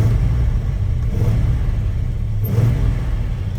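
Engine of a 1969 Dodge Super Bee idling and revving, a loud steady low rumble with two swells in throttle, close by with no talk.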